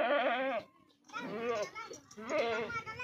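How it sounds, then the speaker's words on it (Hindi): A goat that has just given birth, among Beetle goats, bleats loudly and nearby in repeated quavering calls, with a person's voice mixed in at times. "एक ये बकरी है, इसने डिलीवर किया।"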